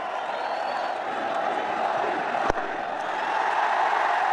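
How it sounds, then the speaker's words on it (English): A large stadium crowd roars in a steady, sustained wave of cheering after Rohit Sharma hits a six in an India vs Australia one-day international cricket match, with one sharp knock partway through. "Big cheer, Julia."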